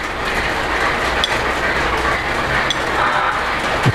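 A Polar Express toy freight train with a flatcar rolls along its track in a steady, close mechanical rattle, with small clicks scattered through it.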